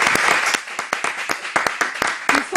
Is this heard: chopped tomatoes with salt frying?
no